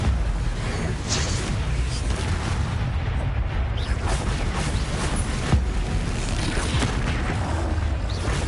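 Confringo explosion spell in a Harry Potter video game, a dense rumbling blast with crackling debris and booms running steadily throughout, loud and close, no voices.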